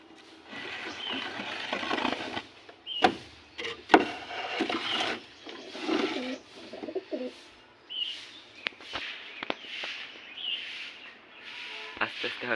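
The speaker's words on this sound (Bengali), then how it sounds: "কবুতরগুলো ছেড়ে আপনাদেরকে দেখাই।" Domestic pigeons let out of their coop coo softly in a scattered, intermittent way, with occasional wooden knocks and some faint talk nearby.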